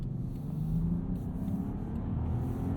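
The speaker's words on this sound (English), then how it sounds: "they moved over to a turbo inline 6 with a mild hybrid system" A 2021 Land Rover Discovery's turbocharged inline-six mild-hybrid engine idling steadily, a smooth, low, even hum with a faint higher whine, heard at moderate level with no talk over it.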